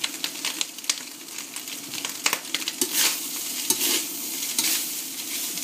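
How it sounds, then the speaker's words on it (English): Onions and crushed garlic sizzle in a pan for chilli con carne, loud and close, with repeated scraping stirs and clattering utensil strokes over a steady frying hiss. "Our onions are in next, and our crushed garlic."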